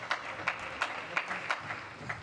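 Coaches clap at a table tennis match at the Tokyo 2020 Paralympics, about half a dozen sharp, evenly spaced claps over a quiet hall murmur, fairly faint.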